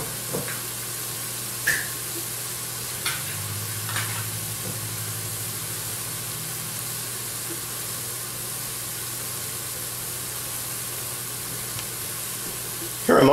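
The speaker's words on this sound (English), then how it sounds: "when you put garlic in hot saute" Garlic sizzles in a hot sauté pan with a steady, close frying hiss, marked by a few light clinks of stirring and a short clatter at the end.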